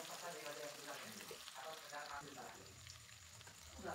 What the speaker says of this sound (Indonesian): Lanjut kita goreng bawang merahnya.